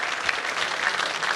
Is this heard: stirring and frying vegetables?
no